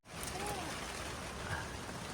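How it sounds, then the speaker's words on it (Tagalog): Steady rain hissing outside at a campsite, a dense and constant patter with no pauses. "Umuulan, iniulan kami sa labas."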